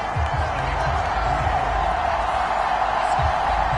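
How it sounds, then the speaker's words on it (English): A home stadium crowd in an American football video game roars after a late go-ahead field goal, a loud, steady wash of cheering that holds for the whole stretch, with low murmurs underneath. "The home crowd here absolutely loves it, as they should, getting the field goal in the closing moments"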